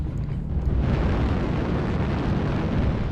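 An airstrike detonating in a mech combat video game, a sustained heavy roaring blast with dense low rumble and crackle, loud and steady throughout with no voices.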